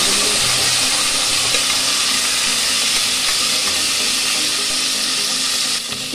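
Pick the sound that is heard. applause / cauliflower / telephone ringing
cauliflower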